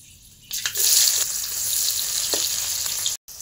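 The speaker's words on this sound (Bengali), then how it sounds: "পেঁয়াজটা ভালো করে ভেজে নেওয়ার পর" Chopped onion with whole garam masala frying in oil in a wok bursts into a loud, close, continuous sizzle after a quiet start and then cuts off abruptly near the end.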